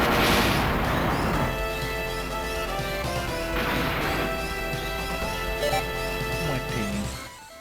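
Vulcan Cannon attack in the Game Boy Advance game Zoids: Legacy, a loud crashing burst at the start followed by sustained ringing, buzzy electronic tones and repeated impact hits, with no talk.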